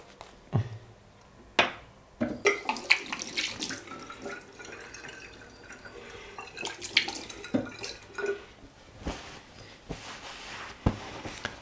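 Water trickles and drips onto Martin de Candre Fougere shaving soap, with close irregular splashes and taps at scattered intervals and quieter running water in between.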